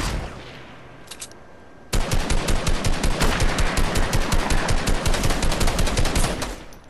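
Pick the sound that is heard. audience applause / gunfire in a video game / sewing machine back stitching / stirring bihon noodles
gunfire in a video game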